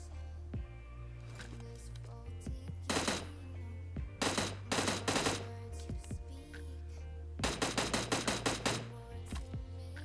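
Rapid automatic gunfire from the PUBG Mobile shooter game comes in several short bursts over looping background music, with single shots in between.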